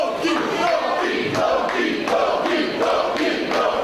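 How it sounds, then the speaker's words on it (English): A crowd at a wrestling event chants and cheers loudly in rhythmic, repeated bursts, filling the space throughout. "And this crowd getting behind Loki now"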